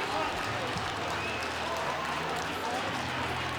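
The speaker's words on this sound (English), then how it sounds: "big applause here" Applause rings out at a FIRST robotics competition district event in West Michigan, a dense, steady wash of clapping and crowd noise filling the arena, with a commentator's voice over it.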